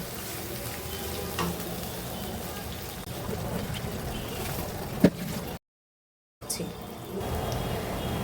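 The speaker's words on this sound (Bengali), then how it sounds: "দেখেন আমার পেঁয়াজটা কিন্তু ভাজা হয়ে গেছে" Onions frying in a pan for chicken korma crackle and sizzle continuously at moderate volume, with occasional stirring scrapes and a brief dropout near the end.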